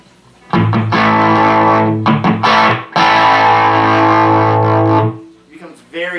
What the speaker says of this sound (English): What's nice about this distortion is that you can still get those like those weird chords to ring out